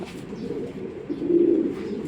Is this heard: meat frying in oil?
no